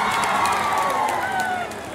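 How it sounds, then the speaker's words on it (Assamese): A crowd at a college freshers event claps and cheers in a steady wash of noise, with a voice speaking over it near the end. "পুনৰ এটা হাত চাপৰি"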